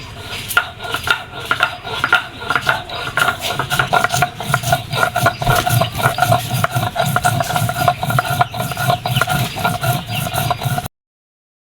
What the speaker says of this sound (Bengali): শুকনো মরিচ এখন বেটে নিব